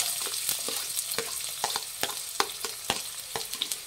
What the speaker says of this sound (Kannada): ಸಣ್ಣದಾಗಿ ಹಚ್ಚಿರೋಂಥ 1 ಈರುಳ್ಳಿ ಹಾಕ್ತಾ ಇದ್ದೀನಿ